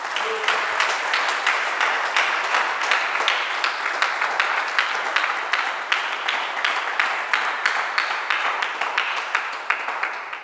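A church congregation applauds during a Sunday morning service, dense steady clapping from many hands filling the room throughout, with rhythmic claps emerging toward the end and no clear speech.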